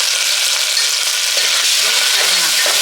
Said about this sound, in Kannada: ಈಗ ಸ್ವಲ್ಪ ಶುಂಠಿ ಬೆಳ್ಳುಳ್ಳಿ ಪೇಸ್ಟ್ ಹಾಕ್ತಾ ಇದ್ದೀನಿ. ಅದೊಂದು ಸ್ವಲ್ಪ ಫ್ರೈ ಮಾಡ್ಕೊಳ್ಳಿ.